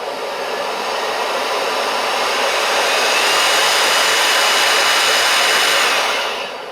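A Milwaukee compact cordless leaf blower runs steadily with a loud, close, broadband airy whoosh, held at full speed on its variable speed trigger before easing off at the end.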